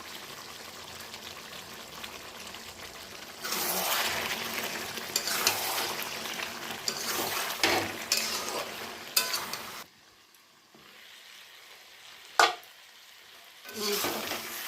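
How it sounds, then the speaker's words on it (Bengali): Mutton sautés in oil in a wok, a steady close sizzle with bursts of stirring and scraping, then a quieter stretch broken by a sharp clank of the spoon against the pan. "মাংসটা পুরো কষাবো যতক্ষণ তেল না ছাড়ে"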